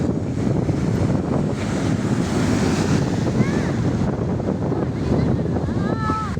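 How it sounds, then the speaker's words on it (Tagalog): Big sea waves surge and crash continuously and loudly, with wind buffeting the microphone throughout; a few faint whistling chirps rise over the surf near the end. "Lalaki ng alon."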